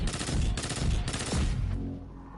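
Rapid automatic gunfire from a weapon in the shooter game Destiny 2, three loud sustained bursts separated by brief gaps, then a fading tail.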